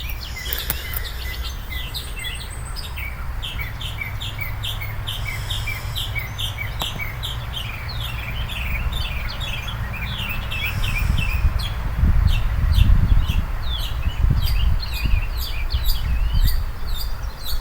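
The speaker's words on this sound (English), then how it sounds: "Hear those birds, man?" Birds sing and chirp outdoors on a morning porch, a steady chorus of repeated bright calls and tweets through the whole stretch, with a low rumble and rustle building underneath toward the end.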